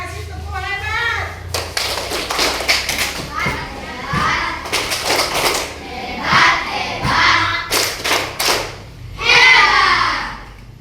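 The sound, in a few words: schoolchildren doing a rhythmic 'tepuk hebat' clap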